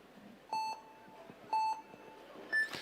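Three evenly spaced electronic start beeps at a speed climbing final, each a short clear tone about a second apart, with a higher final beep over faint background noise.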